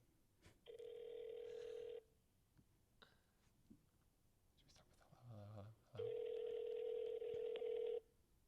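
A phone places a call: a steady ringback tone sounds twice in long, clear bursts, with a short burst of dialing tones between them and soft talk in the gaps.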